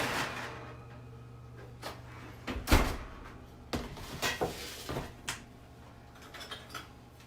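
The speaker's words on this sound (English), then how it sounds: "I'm going to get an enchilada out of the oven here" An oven door opened to take out a baked bean enchilada, with a series of close clunks, bangs and rattles of metal and cookware spread over several seconds in a quiet kitchen.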